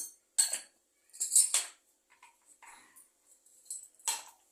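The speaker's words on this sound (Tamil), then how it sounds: "கொஞ்சம் கடுகு போட்டுக்கலாம்" Mustard seeds are tipped into hot sesame oil in a pan to temper kara chutney. A few sharp, crackling, clinking bursts are separated by near silence, close and fairly quiet, with no voices.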